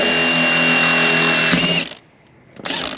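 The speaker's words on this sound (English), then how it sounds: "We're drilling in our door." A power drill whines steadily at close range, drilling into a Nissan Y62 Patrol car door, then cuts off briefly before starting up again.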